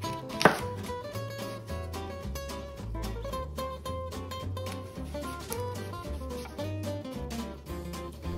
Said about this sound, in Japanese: ちょっと薄めに切る。